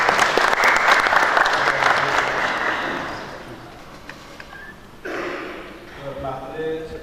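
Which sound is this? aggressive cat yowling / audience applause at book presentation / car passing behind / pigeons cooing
audience applause at book presentation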